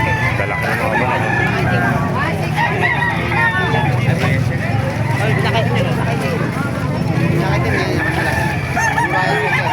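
Chickens clucking and crowing at a busy live-poultry market in Calumpit, Bulacan, a dense continuous clamor of birds mixed with crowd chatter and people talking nearby.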